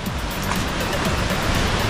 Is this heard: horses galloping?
no